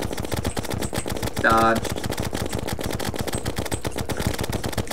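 Minishark gun firing in the Terraria video game: steady rapid-fire bursts run throughout, loud and close, with a brief shout partway through.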